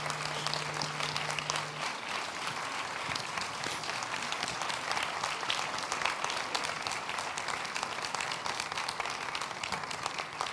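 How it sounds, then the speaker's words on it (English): An audience claps in sustained, dense applause for a group of girls at the Ms Geek Africa event, steady and moderately loud throughout. "let's give them a round of applause"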